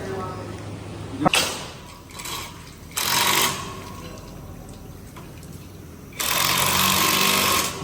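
A small battery-powered machine runs in several loud, steady bursts with quiet gaps between them, out on a farm, while people talk over it.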